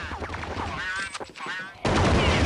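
Sniper rifle fire in a Counter-Strike match, heard as a dense burst of loud, sharp gunfire with overlapping shots and commentary voices, ending in a sustained loud blast.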